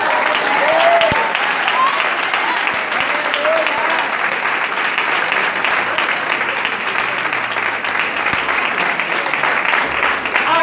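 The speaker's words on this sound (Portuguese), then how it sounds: "Deu uma salva de palmas que essa foi só um gancho" A congregation at a church service applauds loudly and continuously, a dense, steady clapping that fills the whole stretch, with a few voices faintly audible beneath.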